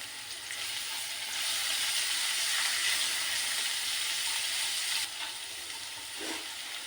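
Chopped garlic, ginger and a green chili hiss and sizzle steadily in hot oil in a pan, a close, continuous frying sound with a brief stir near the end.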